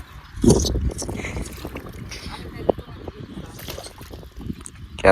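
A large wooden passenger boat carries a group out on the water on a pleasant afternoon; wind and lapping water run steadily beneath several people talking close by.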